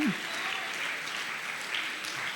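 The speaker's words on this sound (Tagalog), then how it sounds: "dagdagan natin yung ating palakpak" A church congregation applauds through a steady sustained clap, moderately loud and even, with a brief voice at the start.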